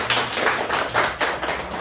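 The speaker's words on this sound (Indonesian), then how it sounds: "tepuk tangan loh teman-teman" Steady applause from a group, dense clapping throughout with a few louder swells, no talking over it.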